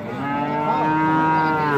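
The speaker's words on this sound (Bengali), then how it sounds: "এই যে দেখছেন এই পাশে প্রচুর পরিমাণে কিন্তু গরু।" Cattle at a livestock market where Friesian and crossbred bull calves are sold, one long, drawn-out moo close by and loud, holding steady for the whole stretch with no talk over it.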